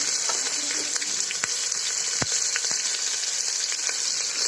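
Onion and curry leaves frying in hot oil, giving a loud, continuous close-up sizzle and crackle with a few soft utensil taps, no voices.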